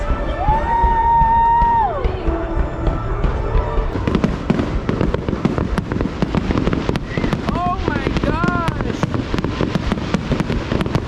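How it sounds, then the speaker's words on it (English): Fireworks burst at Busch Gardens Christmas Town in Tampa, a run of sharp cracks and pops building into a dense crackling barrage with whistling trails, while a crowd cheers and people talk and shout nearby. "This is fireworks."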